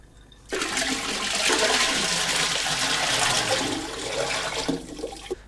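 Cold water poured into the cooling tank of a traditional still used to distil aguardiente, a steady loud rushing gush lasting about five seconds, starting abruptly and tapering off.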